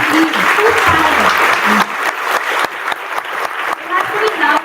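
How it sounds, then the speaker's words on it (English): An awards-ceremony audience claps on request, a dense burst of many hands that carries on for several seconds with slight dips, loud and near, with some voices underneath. "Let me see a demo of you clapping, please."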